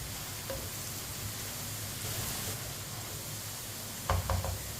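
Arbi (taro root) sizzling steadily in hot oil in a pan, a soft continuous fry with a few brief clattering knocks near the end.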